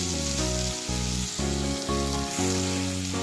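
Onion and tomato sauté in a pan for phodnicha bhat, a Marathi-style fried rice, giving a steady close sizzle partly masked by louder background music with a repeating chord pattern.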